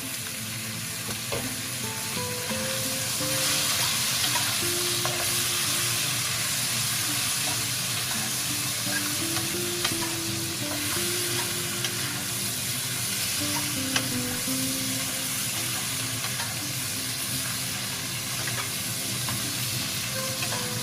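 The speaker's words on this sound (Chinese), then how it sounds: "这个炒到卷起来了，把它都炒香" Eel and salt pork stir-fried in a hot wok with Sichuan peppercorn, ginger and star anise, sizzling steadily and close with the scrape and clatter of stirring throughout, no voices over it.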